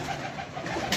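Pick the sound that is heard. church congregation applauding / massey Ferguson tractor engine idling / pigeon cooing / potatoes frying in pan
pigeon cooing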